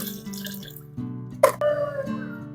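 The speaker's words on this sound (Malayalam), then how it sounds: "ഒരു അര ബക്കറ്റ് വെള്ളം എടുത്തിട്ടുണ്ട് അതിലേക്ക് നമ്മൾ രണ്ട് മൂടി ലിക്വിഡാണ് ഒഴിച്ചു കൊടുക്കുന്നത്" Floor cleaner liquid is poured from a cap into a half bucket of water: a quiet splash followed by a brief trickle, over a faint steady hum.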